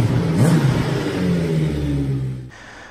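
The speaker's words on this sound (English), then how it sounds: "It's a 270 degree twin, so it's got a lot of character to it, but not the character that's intrusive. It's got a lovely burble when you're riding along, which turns into a snarl" A Royal Enfield Interceptor 650 with a 270-degree parallel twin revs up close by with a throaty, rising snarl for about two seconds, then cuts off abruptly.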